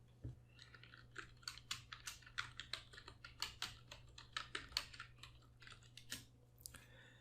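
Typing a search query on a computer keyboard: a steady run of crisp, close keystrokes in uneven bursts, with a low constant hum underneath and no voices.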